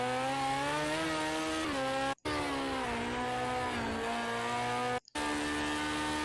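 A Bac Mono race car in Project Cars 2 roars with a loud, continuous engine note that rises and falls as the driver alternates braking and throttle, with two brief cuts where the sound drops out sharply.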